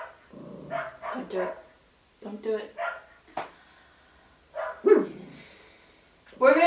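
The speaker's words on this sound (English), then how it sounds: "We're gonna ignore the barking." Dogs bark indoors in short, sharp bursts, a few loud yaps close by, mixed with someone speaking between the barks.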